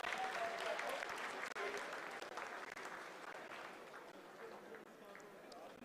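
Applause in mission control during the Chandrayaan-3 lunar landing, a faint, distant wash of clapping from a crowd of engineers lasting several seconds and gradually fading.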